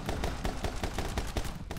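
Rapid bursts of video-game gunfire from My Friend Pedro crack out in a tight, evenly spaced rhythm, loud and close with no voices.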